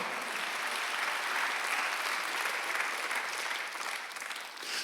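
A church congregation at a Sunday worship service claps steadily together, a dense, even wash of applause that fills the room and eases slightly near the end.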